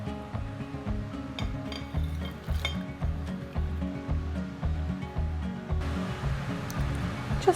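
A spoon clinks and scrapes inside a crockpot while soup is stirred, light repeated taps and swishes close by over a steady low rhythmic background.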